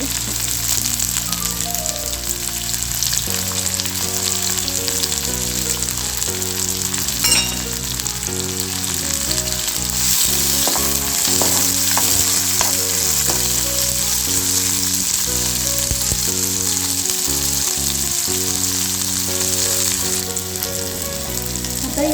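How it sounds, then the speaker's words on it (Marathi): A large onion sautéing in a pan, a steady, dense sizzle running throughout, close up, with music playing underneath and no talking. "त्यासाठी मी इथे एक मोठा कांदा परतून घेते"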